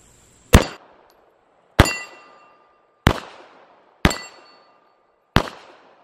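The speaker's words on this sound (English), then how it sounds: "I just wanna put some test shots down there and see where we're at." Five sharp gunshots from a Rock Island 1911 A2 TAC Ultra double-stack .45 ACP pistol at an outdoor range, spaced about a second apart, each a loud crack with a ringing metallic tail and short decay.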